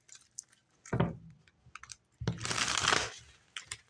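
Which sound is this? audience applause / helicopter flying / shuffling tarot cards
shuffling tarot cards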